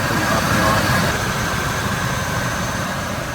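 A 2003 Ford F150 engine idles with its R134A air conditioning compressor running, a loud, steady, broadband mechanical drone heard close up without pause.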